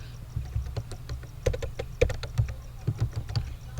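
Fast, uneven keystrokes on a computer keyboard as C++ code is typed, a close, steady patter of clicks with short pauses and no voice.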